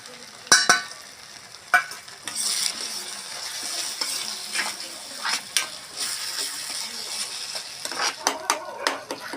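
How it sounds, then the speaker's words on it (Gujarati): Chopped green garlic frying with green turmeric in an oiled pan, a steady sizzle under repeated scrapes and clinks of a metal spoon stirring against the pan. "હવે આપણે જે લીલું લસણ કટિંગ કરીને રાખ્યું છે નાખી દઈશું"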